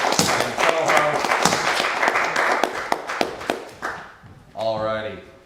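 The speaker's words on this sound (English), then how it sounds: "A round of applause for Devin Smock." An audience at a small live show gives a round of applause, and sharp hand claps fill the first four seconds before they fade. A voice follows as the clapping dies out.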